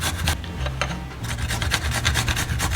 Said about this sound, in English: grate 1 emotional support garlic, and 1 knuckle of ginger